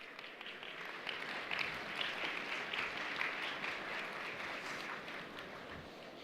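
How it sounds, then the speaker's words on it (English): Conference audience applauding as panelists for a security discussion walk onto the stage: steady, moderately distant clapping from a crowd, holding an even level for several seconds with no talk. "Please join me in giving them a warm round of applause."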